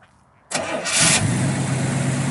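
A 1967 Pontiac Firebird with a numbers-matching 326 four-barrel V8 cranks briefly and fires, catching at once into a loud, close, steady idle.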